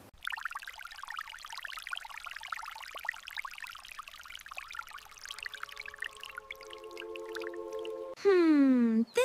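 Water pours steadily onto young sprouts, a close, continuous splashing that lasts several seconds before giving way to sustained tones and a loud sliding whistle at the end.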